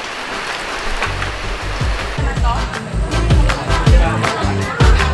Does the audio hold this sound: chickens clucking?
no